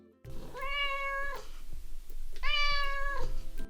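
A domestic cat gives two long, clear meows separated by a short pause, close and loud in a quiet room.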